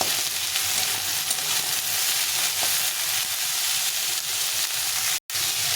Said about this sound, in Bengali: একটু ভালো করে ভাজতে হবে সবজিগুলোকে এখন আমি এর মধ্যে পটল চেরা পটলটা দিয়ে দিব দিয়ে একটু নেড়ে চেড়ে নিয়ে